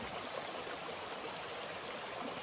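Water runs steadily through a small dug mill canal with a sluice gate at Mingus Mill in the Smoky Mountains, a continuous broadband rush and gurgle close by with no talk.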